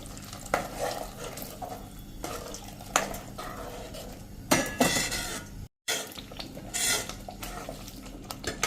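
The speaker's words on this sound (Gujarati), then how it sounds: "અડધો કપ જેવું ગરમ પાણી પણ નાખી દેશું" Hot water is poured into a pan of cauliflower and peas curry amid scraping and stirring, with soft clinks of utensils against metal; fairly quiet and close, with a brief gap midway.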